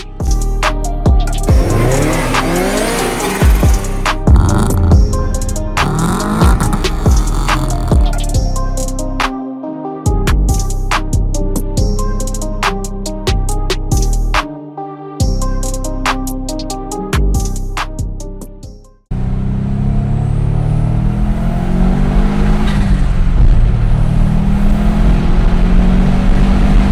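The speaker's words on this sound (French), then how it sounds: "tu peux la démarrer, tu peux laisser le capot ouvert là. Ouais. Et on va faire un petit démarrage." Subaru Impreza GT with a swapped Type RA forged engine, hood open, starts and settles into a steady, loud idle and rumble, following about nineteen seconds of rhythmic music.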